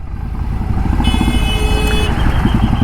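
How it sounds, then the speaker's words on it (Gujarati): Dense road traffic in a jam in Bopal, Ahmedabad, rumbles steadily nearby, with engines idling and revving, and a sustained high-pitched horn or siren tone sounding for about a second. "બોપલના ખતરનાક ટ્રાફિકમાં ફસાઈ ગયા છે"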